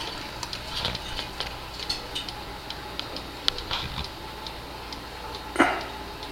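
A thrift-store cuckoo clock ticks with its pendulum swinging while being oiled: a steady, close run of small dry ticks at an even rhythm, with a louder knock near the end.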